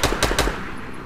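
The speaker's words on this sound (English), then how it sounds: "All you gotta do is shoot him down." Rapid automatic gunfire in the Fortnite video game, three quick close bursts in the first half second followed by a fading echoing tail.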